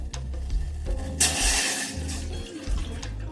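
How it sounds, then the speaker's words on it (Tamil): Water splashes and gurgles as it is poured into a pot on a gas stove while a betel-leaf herbal remedy is being made, a close, continuous pour with the sound swelling midway. "தண்ணி கொட்டிக்கணும்."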